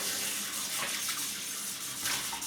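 Fresh water runs steadily from a tap into a basin or bath, a continuous close rushing and splashing that fills the whole moment with no voices.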